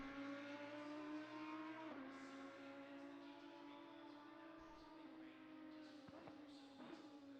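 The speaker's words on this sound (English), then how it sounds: "that Audi is mean on downshift" An Audi GT3 race car in Assetto Corsa Competizione holds a high, steady engine note, then drops pitch in sharp downshift steps with brief blips, fairly distant and without talk.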